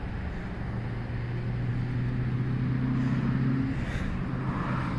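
A 2005 Cadillac Escalade 6.0L 4x4 with a failing fuel pump idles steadily after starting, a low continuous engine hum with a faint tonal drone, close and unbroken throughout.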